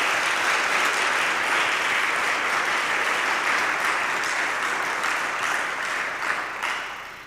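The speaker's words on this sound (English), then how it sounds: "we'll give you a round of applause for that" The audience at a high school spring choir concert claps in a continuous, dense round for several singers. The applause stays loud for most of its length, then begins to taper off near the end.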